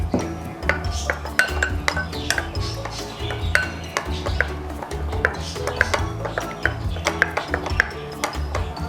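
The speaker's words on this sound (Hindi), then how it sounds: "पहले डालते हैं दही को डालने के बाद थोड़ा इसको फेंट लेते हैं" Yogurt being whisked in a bowl for a BBQ chicken marinade, a quick irregular run of clinking, scraping utensil strokes against the dish, close and fairly loud, with no talking over it.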